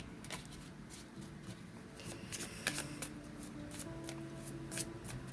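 Lenormand oracle cards being shuffled and drawn by hand, a steady soft rustle with light riffling flicks and taps, fairly quiet and close, under a faint hum.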